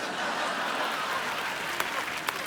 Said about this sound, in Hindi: अगर यही है तुम्हारा इंसाफ तो ठोको ताली।